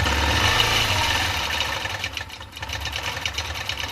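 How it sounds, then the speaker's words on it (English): Butler robotic quilting machine stitching a quilt pattern, a steady mechanical hum with fine rapid vibration and a low motor drone, close and continuous throughout. "it's going to go ahead and start stitching the next pattern."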